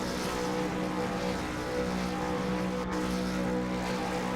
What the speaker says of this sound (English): Revs building.